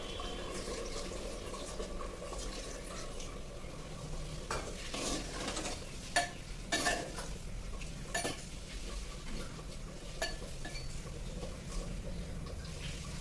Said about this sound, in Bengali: ওর মধ্যে এবার এক বাটি জল দেবো